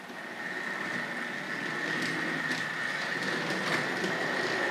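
Tri-ang R.153 saddle tank model locomotive running on a layout at a model railway show, giving a steady close whirring hum with a faint high whine and small clicks as it passes over track.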